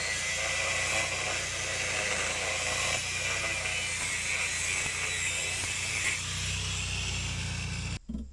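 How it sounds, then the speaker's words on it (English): Abrasive cutoff wheel grinding a small kerf notch into a steel backhoe frame during a welding repair, a steady loud whine running unbroken for about eight seconds before cutting off abruptly. "we'll take the cutoff wheel and just make a little kerf notch"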